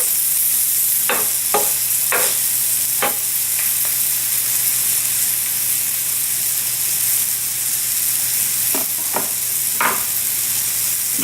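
Mushrooms sizzle in a pan being made into a cheesesteak, a dense steady hiss close up with a low hum underneath, broken by a few sharp scraping clicks of a utensil stirring near the start and end.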